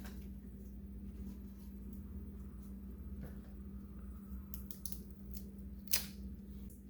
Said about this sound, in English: So I'll continue until all the leaves are chopped.